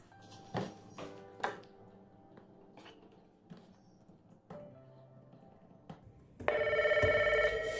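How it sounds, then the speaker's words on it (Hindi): An office telephone rings near the end, a steady bright electronic ring that follows quieter clatter and desk sounds. "रिंग बज रही है तो कॉल उठाते हैं"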